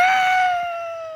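One person on a hiking outing lets out a single long, high-pitched scream, held steady and loud before tapering slightly at the end, with no talk over it.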